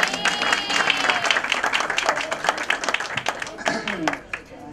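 An audience at an engagement party claps steadily, a dense burst of many hands that thins and fades toward the end, with voices mixed in.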